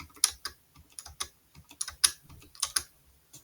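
Typing numbers into a spreadsheet on a computer keyboard: a brisk, uneven run of close, crisp key clicks with short pauses between strokes, and no voices.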